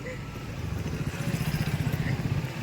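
A scooter rides over a rough, rain-damaged monsoon road, its engine buzzing steadily up close with a rattling, uneven pulse.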